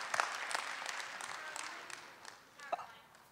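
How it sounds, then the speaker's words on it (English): A conference audience applauds a keynote speaker at ZeroCon19. The clapping starts moderately loud, then thins and tapers off, with a few voices heard briefly near the end. "Please, a round of applause to Georgette."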